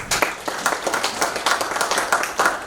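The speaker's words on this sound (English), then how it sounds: "Let's clap for ourselves." A conference audience applauds, many hands clapping in a dense, steady patter that stays fairly loud throughout.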